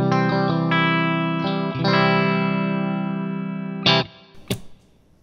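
Electric guitar picked with a 1.4 mm marble Hawk jazz pick, several strummed and picked notes through a distorted, chorus-laden effects chain, sustained and ringing, then a final struck note and a brief scrape, loud with no talking.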